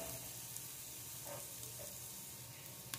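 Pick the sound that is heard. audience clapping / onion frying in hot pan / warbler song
onion frying in hot pan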